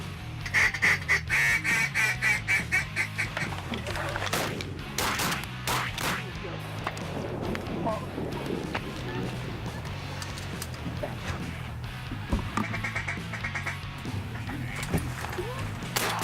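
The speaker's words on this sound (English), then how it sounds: "Is that another gray duck?" Gray ducks quack in repeated bursts on a hunt, the calls fairly close at the start and again later, mixed with loud bangs like shotgun blasts, rustling movement and people talking.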